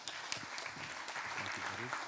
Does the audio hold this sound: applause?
yes